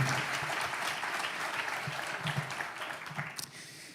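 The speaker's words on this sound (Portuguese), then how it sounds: "uma salva de palmas para o Projeto Alfa e para o Marcos" A crowd claps in steady, dense applause that fades slightly toward the end, heard from a moderate distance.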